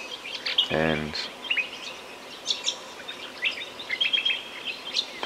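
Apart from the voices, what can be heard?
birds calling at the southern Lost City in the morning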